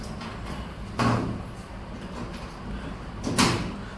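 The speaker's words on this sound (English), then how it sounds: "I will remove the back door" The back door of a 100W HL 1060G CO2 laser cutter being taken off, two soft sliding and knocking panel sounds about two seconds apart over a low room hum.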